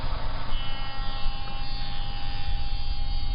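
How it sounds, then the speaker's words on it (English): A router fitted with a straight bit cuts dovetail sockets through angled jig fingers in wooden boards, giving a steady, loud, high-pitched motor whine with a continuous buzzing edge for the whole stretch, without any voices. "Guide the router slowly through the angled fingers to create the sockets"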